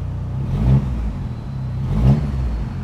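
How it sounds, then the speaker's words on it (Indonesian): A turbocharged Mitsubishi 4G63 engine in a Mitsubishi Eterna revs hard twice in a row, each rise peaking loud and close over a steady rumbling idle, with no talking. "Yo, mesin oke lah, garang dia."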